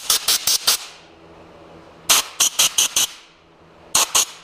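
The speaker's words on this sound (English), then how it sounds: "if you got some compressed air, I'll just hook this up" Compressed air blows dust off the fuel filter area of a 2002 Ford F-150, heard as sharp hissing bursts in quick clusters of three to five, close and loud, separated by short quiet gaps.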